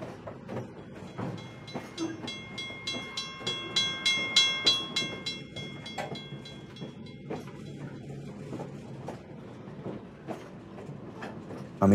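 Aboard a moving passenger train, wheels clatter in a steady clickety-clack rhythm over the rails, with a continuous rumble and a few sustained tonal whines from the carriage, heard from inside.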